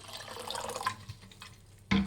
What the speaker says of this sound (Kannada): ಒಂದು ಪಾತ್ರೆಗೆ ಒಂದು ಅರ್ಧ ಲೀಟ್ರಷ್ಟು ನೀರು ಹಾಕ್ಕೊಳ್ಳಿ